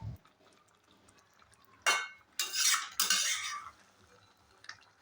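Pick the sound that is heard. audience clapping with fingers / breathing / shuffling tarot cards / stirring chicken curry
stirring chicken curry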